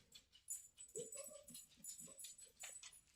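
A dog whimpers and whines in a quiet room, several short high-pitched cries and soft nasal yips in uneven bursts, fairly faint and close, with no talking.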